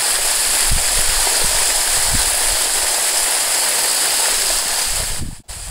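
The Yinhe Cave waterfall near Maokong in Taipei's Muzha area pours down a rock wall in a constant, loud, close roar of rushing water, with a brief dropout near the end.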